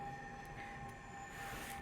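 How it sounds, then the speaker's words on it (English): A train passes at a distance, a faint, steady rumble and hiss with a sustained high tone running through it, heard alone for about two seconds. "These trains, man."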